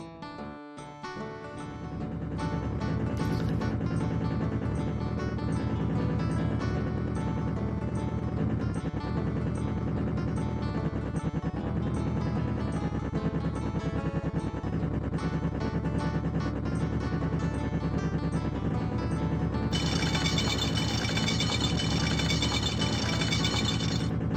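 A steady, droning helicopter rotor hum in the video game Sam & Max Hit the Road runs continuously at an even level, with a brighter electronic tone joining near the end.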